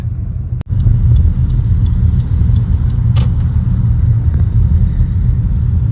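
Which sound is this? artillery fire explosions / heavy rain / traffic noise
traffic noise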